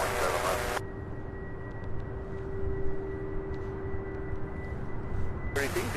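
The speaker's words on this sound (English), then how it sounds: "Lean, runway 17 right, clear for takeoff. All right, here she goes." A heavy jet takes off from runway 17 right at Louisville International Airport, its engines a steady, loud roar with a sustained tone throughout, while a voice and tower radio chatter sound briefly at the start and end.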